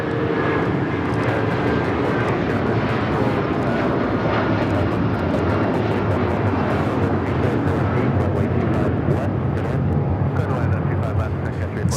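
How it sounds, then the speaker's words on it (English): A United airliner bound for Denver takes off from runway 25 right at LAX, its engines roaring loud and steady throughout as a broad continuous rumble, with voices talking underneath. "It's taking off to Denver, Colorado. Beautiful takeoff."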